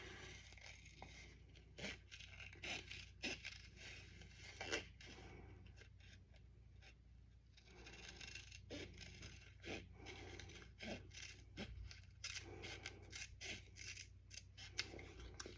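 Scissors cut through t-shirt fabric along a pencil line, close and quiet, with repeated crisp snips and soft scraping of blades through cloth in an irregular rhythm, no talking.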